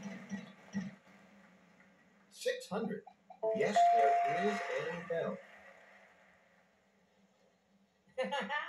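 A bright single bell ding rings out in the Xbox 360 Wheel of Fortune video game as a letter is revealed, a short clear tone amid game sounds and a speaking voice.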